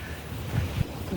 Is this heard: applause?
no